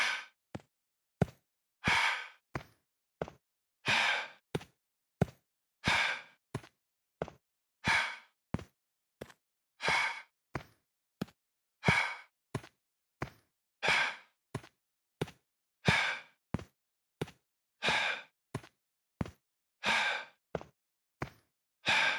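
A runner's rhythmic breathing, slowed to half speed, comes as a long, even sequence of paired breaths: sharp short intakes alternating with drawn-out exhales, close and clear with nothing else heard.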